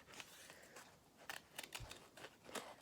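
Scissors snip through card while a Valentine's card is cut out, a string of soft, quiet, irregular clicks and crunches close by.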